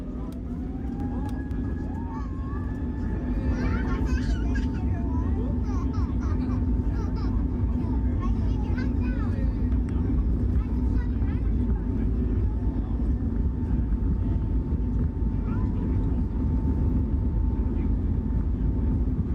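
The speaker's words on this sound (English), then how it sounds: "The next thing will be the takeoff." Airliner taking off in Microsoft Flight Simulator, a Manchester–Belfast–Newcastle flight: a continuous low engine rumble with a steady whine building in level, heard alone and sustained throughout.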